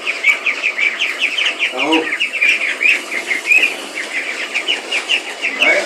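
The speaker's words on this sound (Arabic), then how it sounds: "اهي ادي البط ايه كله فرحان اهو" Ducks being raised on azolla, calling in a steady chattering stream with bursts of wing flapping, close and lively, while someone talks over them.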